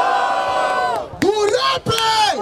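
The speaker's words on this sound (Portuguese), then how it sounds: "Barulho para as rimas do JP!" At a freestyle rap battle event in Barueri, a crowd roars and cheers, with loud whoops and yells rising and falling in short bursts, close and boisterous.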